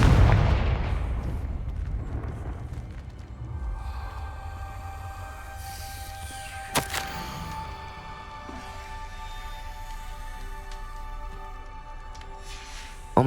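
A Confringo blasting curse in the Hogwarts Legacy video game bursts loudly at the start, followed by a rumbling decay and lingering ambient tones, with a sharp crack midway and another hit at the very end.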